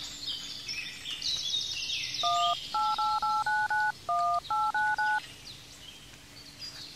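A mobile phone keypad is dialed, producing a rapid series of about ten short, clear beeping tones in quick succession over quiet background ambience with faint chirps.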